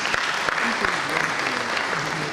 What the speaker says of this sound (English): A round of applause for our chairman, Professor A.T. Mora.